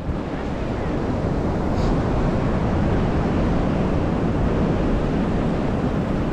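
Big ocean surf pounds the shore at Grayland beach, Washington, a loud, continuous roar of breaking waves mixed with gusting wind buffeting the microphone.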